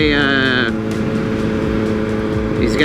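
A 2008 Suzuki Hayabusa motorcycle engine drones steadily and loudly while riding, with a high whine easing off early on and wind rush throughout, under a continuous close engine note.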